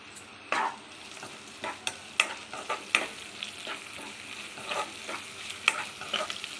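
Sliced ginger, garlic and curry leaves fry in a hot pan with a steady sizzle, broken by sharp scraping clicks of a spoon stirring at an uneven rhythm, close and with no talking.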